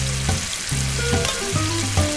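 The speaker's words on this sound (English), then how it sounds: "I begin to put the balls in there. And they're frying almost immediately." Chicken balls sizzle steadily in hot oil, a constant crackling hiss, with low tones sounding in the background.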